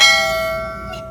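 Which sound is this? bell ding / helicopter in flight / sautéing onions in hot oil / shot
bell ding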